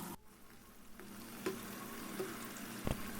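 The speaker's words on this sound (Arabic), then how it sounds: "والطاسة تكون الزيت سخن وانتي بتحطي الخمير" Yemeni khamir dough rounds frying in hot oil in a pan, a soft continuous sizzle with occasional pops and a light clink of a utensil, no talking.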